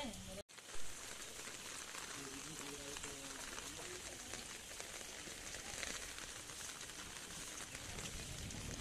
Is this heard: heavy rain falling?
yes